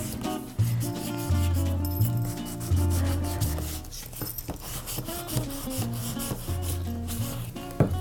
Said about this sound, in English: Find a tool that I can rub that print with.